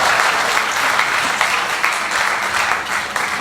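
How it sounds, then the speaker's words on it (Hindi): An audience at a poetry gathering during a health conference in Ayodhya claps in welcome, steady dense applause from a large crowd that continues loudly throughout. "ताली बजा के स्वागत कर दीजिए।"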